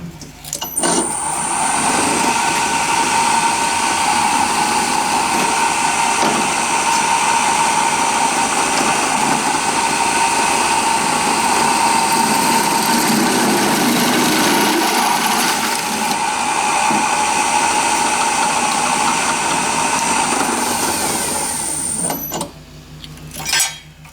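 A twist drill bores through a thick stainless steel sheet, a sustained loud motor whine with a labouring grind running for over twenty seconds before stopping.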